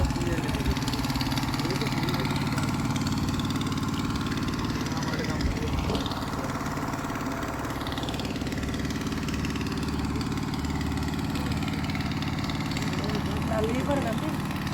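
A motorboat engine drones steadily during a river crossing, a constant mid-pitched mechanical hum at a fairly close and unchanging level, with voices talking faintly beneath it.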